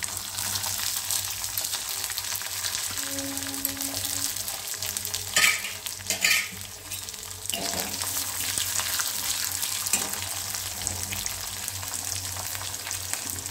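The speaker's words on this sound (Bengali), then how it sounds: "রসুনটা ভাজা" Two or three half-crushed garlic cloves fry in hot oil in a pan for a nigella-seed garlic dish, giving a continuous close sizzle with occasional scraping stirs and no talking.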